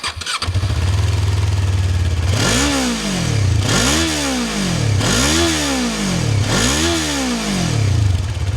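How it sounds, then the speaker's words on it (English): Voge 350 AC motorcycle fitted with a silver metal exhaust heat shield starts up and idles, then gets four sharp throttle blips about a second apart, each rising and falling, loud and close with no talking. "shall we have a cheeky listen to that exhaust note?"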